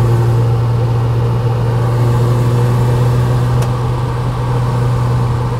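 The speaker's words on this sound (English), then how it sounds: "But watch this transmission shift. Notice the smoothness?" A 1968 Mercedes 280SEL with a six-cylinder engine and four-speed transmission being driven, giving a steady loud engine drone and road rumble inside the car as it shifts smoothly, with no talk.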